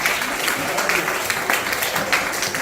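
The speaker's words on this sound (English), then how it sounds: "Give yourself a round of applause." Steady applause from a group, a continuous patter of clapping lasting throughout without talk.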